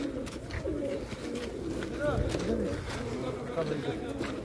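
Pigeons coo softly and repeatedly amid a murmuring crowd and background chatter outdoors, where pigeon feed is being sold during an umrah pilgrimage.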